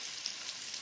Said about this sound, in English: I'm just going to drop it over in this pan, because I'm just really browning it